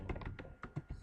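A burst of computer keyboard typing, several quick, close key taps with uneven spacing, heard alone with no voices.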